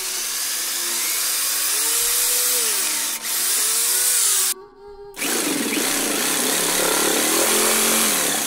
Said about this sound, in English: I drill holes in this son of a bitch too.